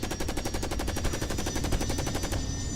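Rapid automatic gunfire from a strafing run in the video game Carrier Command: Gaea Mission rattles in a fast, even burst of many shots, then cuts off abruptly before the end, leaving a low hum.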